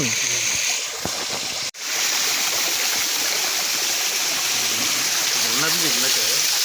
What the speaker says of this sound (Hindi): ये देखो भाजी झरने का आनंद लेते हुए